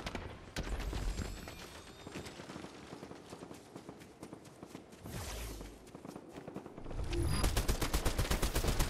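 Rapid gunfire in a video game, bursts of repeated sharp shots that run through much of the stretch and grow denser near the end, loud and close with no talk over them.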